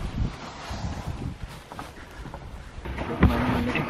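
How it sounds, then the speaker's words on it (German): Gusty wind on a kayak tour near a sandbank by a river, buffeting the microphone with a steady low rumble and rustle that swells slightly toward the end, with no talking. "Etwas windig, aber wir machen kurze Pause."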